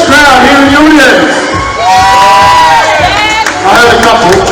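Scottish supporters cheer and whoop loudly from the crowd at an England v Scotland under-17 men's water polo exhibition match, with excited voices rising and falling for several seconds.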